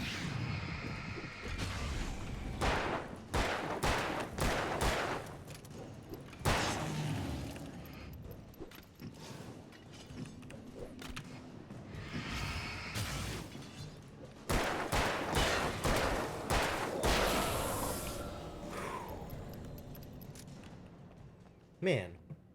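Gunshots in Alan Wake, a string of sharp reports in bursts, some clustered and some spaced apart, with longer noisy stretches mixed in while someone talks over much of it.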